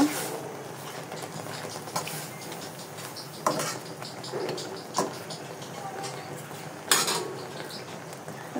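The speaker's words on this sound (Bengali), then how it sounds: "এবার একটু নেড়ে দিব।" Soaked red lentils and prawns being stirred in a metal cooking pot, with intermittent clinks and scrapes of a spoon against the pot over a quiet background.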